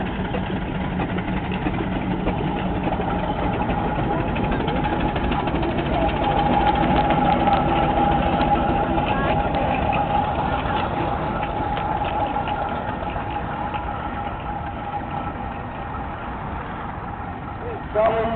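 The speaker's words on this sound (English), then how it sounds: "the two engines crossing" Two steam engines run at a steam rally in a show arena at South Cerney, Gloucestershire, with a steady, continuous mechanical chugging and hum throughout, while a commentator talks over it.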